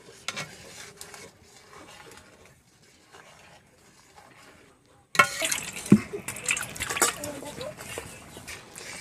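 Powdered milk mixed in being stirred into semai payesh with fried cashews and raisins in a pot, quiet at first, then louder scraping and liquid stirring in the second half, with background voices at times.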